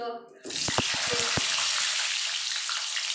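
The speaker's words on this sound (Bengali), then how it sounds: "এখানে তেল গরম হয়ে গেছে আমি সবার প্রথমে আলুগুলোকে ভেজে নেব" Potatoes dropped into hot oil for a Bengali mutton curry burst into a loud, steady sizzle after a short quiet start, with a few sharp clatters near the beginning.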